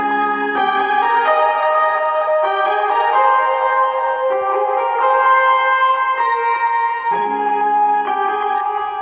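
Layered Omnisphere synth patches sound together in sustained chords, changing every second or so, with bright shimmering upper tones over a warm low body, played loud and continuous with no voices.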